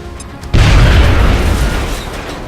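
A grenade detonates in the XCOM video game, one loud, sudden boom after a quiet moment, followed by a rumbling, crackling decay that lasts about two seconds.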